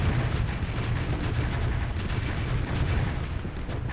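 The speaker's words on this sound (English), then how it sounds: "our TAC lasers just shred missiles" Rapid laser fire and bursting missiles in a Starsector space battle, with TAC lasers shredding incoming missiles against Remnant ships; a dense, continuous barrage of pops and booms at steady loudness throughout.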